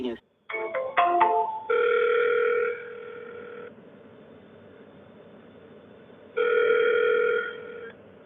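A telephone call rings back: quick dialing beeps at the start, then two long electronic ringback tones separated by a pause, loud and clear over faint line hiss.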